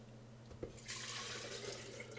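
Liquid poured into a container for a chocolate milkshake at a play café, a faint steady splashing stream that begins after a soft knock and continues quietly over a low hum.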